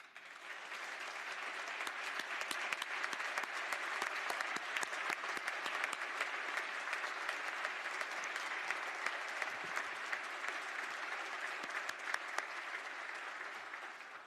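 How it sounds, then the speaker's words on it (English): An audience at the Maryland State of the State address in the legislative chamber gives a long, steady round of applause, a dense and even roar of many hands that continues without a break. "Could Emily and Doreen please stand up so we can give you a round of applause for your work?"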